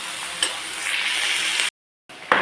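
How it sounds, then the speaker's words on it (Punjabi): Onions frying in a pan until brown: a steady sizzle and crackle with a few light stirring clicks, briefly cut to silence before the sizzling returns. "ਚਲੋ ਬਰਾਊਨ ਹੋਣ ਤੱਕ ਵੇਟ ਕਰਦੇ ਹਾਂ ਪਿਆਜ਼ਾਂ ਦੀ"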